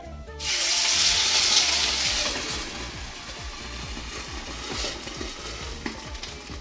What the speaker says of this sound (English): you take the water, and as I'm gonna pour it in, I'm gonna cover it really quick